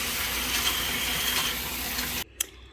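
Thawed fish rinsed under a running kitchen tap, a steady splashing gush of water that stops abruptly near the end, followed by a short clunk.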